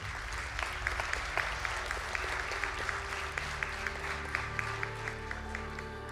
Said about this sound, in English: A round of applause, please, for the graduates.